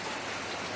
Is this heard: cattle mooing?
no